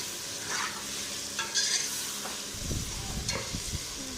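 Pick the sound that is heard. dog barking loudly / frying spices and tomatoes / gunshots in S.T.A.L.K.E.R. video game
frying spices and tomatoes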